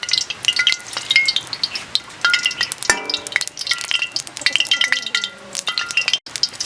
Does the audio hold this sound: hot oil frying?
yes